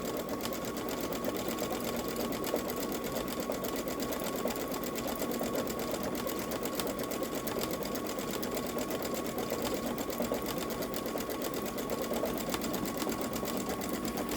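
A Babylock Solaris Vision Journey sewing machine couches yarn onto fabric with a steady, continuous whirring hum that runs evenly and close throughout, with no talking.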